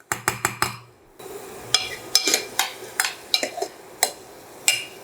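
Chopped tomatoes added to a pan of ginger garlic for toor dal, a quick burst of clattering drops followed by scattered clinks and taps of a utensil against the pan, close and fairly clear.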